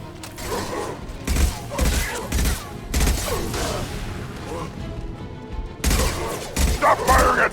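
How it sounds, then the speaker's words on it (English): Bursts of gunfire from the shooter game Mass Effect 2, with clusters of sharp reports in an irregular rhythm, loud and close against a busy combat background. "Stop firing at me, idiot!"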